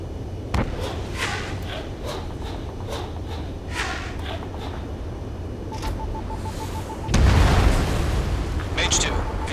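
A radar vehicle blows up in Ace Combat 7, a sudden loud explosive burst with deep rumble late on, following a stretch of clicking and rapid popping game noise under radio chatter.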